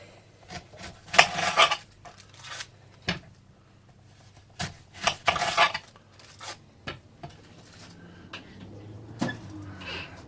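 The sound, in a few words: knife cutting the ends off an onion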